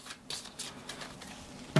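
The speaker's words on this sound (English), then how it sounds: "we take stack 5, give it a really good shuffle, pop it on the bottom of the deck" A stack of game cards gets a vigorous riffle shuffle, soft rapid papery flutters in several bursts, close and fairly quiet, ending with a sharp tap as the stack is set down.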